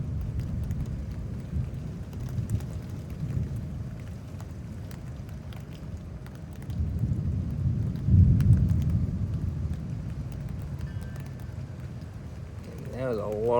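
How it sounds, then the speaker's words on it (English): Distant thunder rumbles through a Houston storm, a long low roll swelling around the middle and fading, with faint rain and wind behind it and someone speaking quietly over parts of it. "it was like a pretty big thunder"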